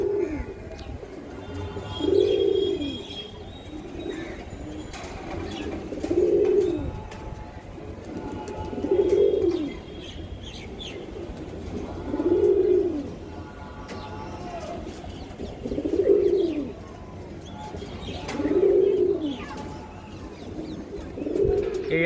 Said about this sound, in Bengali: খুবই স্পেশাল কবুতর